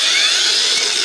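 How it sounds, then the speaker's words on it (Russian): A Heimerdinger LB184 cordless angle grinder runs at its second speed setting, giving a steady high-pitched whine that is loud and close, heard briefly on its own without talk. "Ура, болгарка работает."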